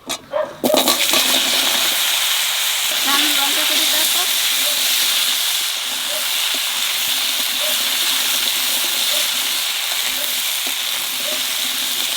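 Taro pieces hit hot oil seasoned with nigella seeds and set off a loud, steady sizzle that fills the kitchen, with a brief clatter at the start and faint voices underneath.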